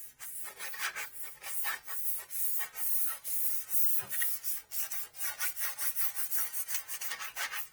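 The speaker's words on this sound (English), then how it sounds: "really light scuffing." Light scuffing of a 3D printer bed surface before a Keenovo heater pad goes on, with quick, even back-and-forth rubbing strokes that grow steadier toward the end, close and fairly quiet.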